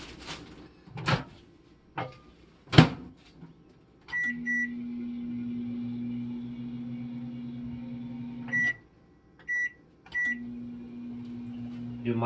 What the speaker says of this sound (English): you microwave them for 20 seconds